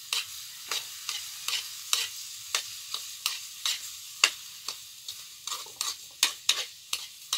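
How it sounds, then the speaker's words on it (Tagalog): Food frying in a pan is stirred with a utensil, making a string of about twenty quick scraping clatters in an uneven rhythm over a soft, steady sizzle, close by and with no talking. "ang gagawin natin dyan ay haluin lang natin"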